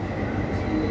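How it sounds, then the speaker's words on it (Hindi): A metro train running, a steady close rumble of rail travel with faint wheel noise, brief and continuous with no talk. "चाइना की मेट्रो"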